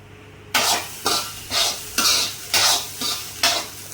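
Spices are stirred into vegetable fried rice in a pan, a spatula scraping and tossing in seven regular rhythmic strokes, each a close swishing scrape over a faint background hum, with no talking.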